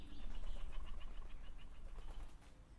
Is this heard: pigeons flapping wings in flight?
yes